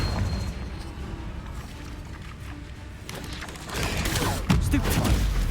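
The Confringo fire spell explodes in Hogwarts Legacy, sharp bursts and booms following a stretch of steady combat rumble, growing louder and denser toward the end.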